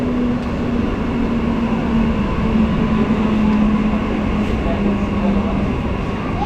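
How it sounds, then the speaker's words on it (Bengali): An Ahmedpur-Katwa local train comes into Gyandas Kandra station, a loud steady rail rumble with a sustained low tonal hum from the running train. "আর এই জ্ঞানদাস কান্দারা স্টেশনে আমাদের সঙ্গে দেখা হয়ে গেল আহমেদপুর কাটোয়াগামী লোকাল ট্রেনের সাথে।"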